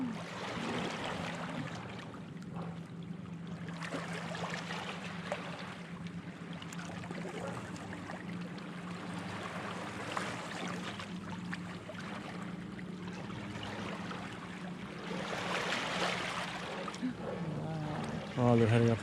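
A boat engine drones steadily very close by over lapping water and wind near a canoe in the Broughton Archipelago, British Columbia, with faint voices speaking now and then.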